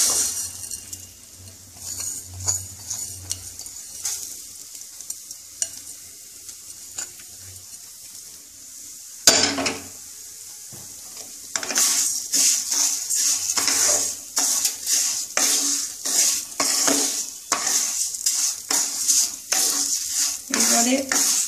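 Moong dal goes into a pan of browning cumin for a Bengali pitha, a quieter sizzle at first, then a sudden louder burst of frying with steady crackle and repeated scraping and clinking of a stirring utensil, close by.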